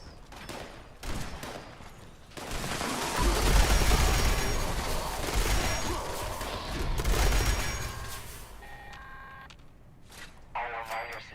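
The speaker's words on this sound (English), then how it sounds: "Oh, I hear gunshots." Rapid gunfire crackles in sustained bursts in the video game Fallout 76, swelling and fading over a few seconds, with short electronic beeps and tones at the edges.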